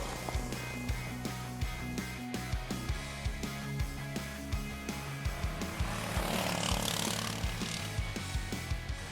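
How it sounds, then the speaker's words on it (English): A Tofalar gas ATV bike engine runs steadily and loudly while being ridden, a continuous buzzing drone with regular rhythmic pulses throughout, swelling slightly toward the end. "Yes, as any gas bike, it's rather noisy."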